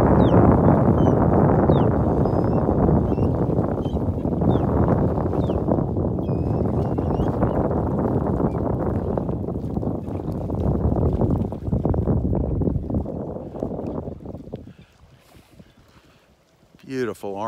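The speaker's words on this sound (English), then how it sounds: "Quite breezy out here" Strong wind blows across a beach in North Naples, Florida, gusting loudly into the microphone and dropping off toward the end, where a voice briefly speaks.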